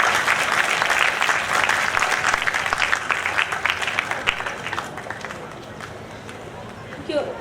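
Audience applause at the close of an architecture education panel discussion, a dense sustained clapping from a crowd that gradually thins and fades over several seconds.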